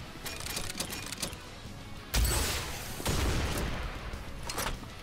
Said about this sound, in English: When full charge, Quazuka will launch 4 missiles.